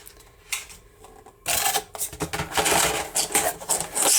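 Brutfuner coloured pencils being mixed in their box, a loud rattling clatter of many wooden pencils knocking together, starting with a few light clicks and then turning into continuous close shaking.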